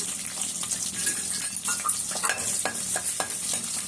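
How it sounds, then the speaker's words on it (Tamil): Green chicken masala with crushed garlic sizzling and frying in a pan with steady crackle and occasional stirring scrapes, close up, no talking. "இது கிரீன் சிக்கனுக்கு மசாலா. இது நல்லா பொரியட்டும்."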